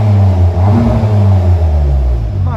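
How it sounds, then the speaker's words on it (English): A 2.0-litre TFSI turbo Audi TT with a Stage 1 remap and an exhaust valve system revs while stationary, giving a loud, close, deep engine drone that rises and settles across one sustained rev. "Give it a little rev for you."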